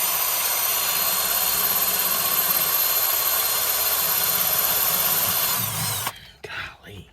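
Power drill runs loud and steady for about six seconds, boring out a bolt on a 1963 Lincoln Continental, then cuts off abruptly into a quieter workshop with brief noise after.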